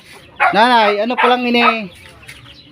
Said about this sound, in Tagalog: yung mga manok na kanyang papaalaga